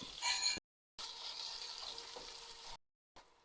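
Coconut pieces and whole fenugreek seeds sizzle steadily in hot frying oil for a Kuttanad-style prawn roast, a bright continuous crackle broken by two brief gaps of silence, with no voices.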